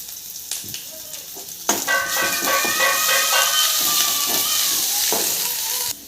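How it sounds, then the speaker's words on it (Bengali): Cumin and garlic paste drops into hot oil with a sudden loud sizzle that stays strong and hissing, while a utensil scrapes and taps the pan as the mixture is stirred. "তার মধ্যে আমি জিরা রসুন বাটাটা দিয়ে দেব, দিয়ে একটু নাড়াচাড়া করে নেব।"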